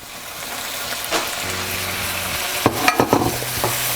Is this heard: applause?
no